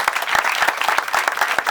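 A crowd at a gathering breaks into brisk, steady applause, many hands clapping close by at an even, lively pace.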